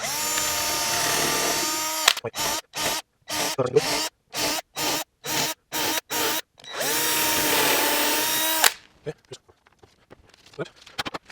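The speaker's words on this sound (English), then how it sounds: "Now I'm just going to drill." A power drill drilling wood whines steadily, then runs in a series of short rapid bursts, then another long steady run before stopping, leaving faint clicks.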